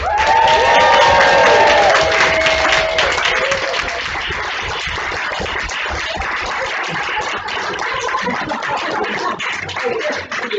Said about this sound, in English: Lots of clapping, lots of cheering, lots of stamping feet